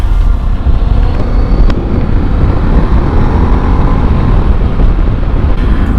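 A 2023 Ducati Desert X motorcycle ridden steadily, its engine a constant loud rumble mixed with heavy wind buffeting across the microphone, no talking.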